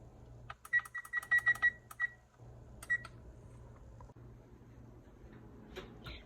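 A kitchen oven timer gives a quick run of about eight sharp electronic beeps, close by and clear against a quiet room, then one more beep a moment later.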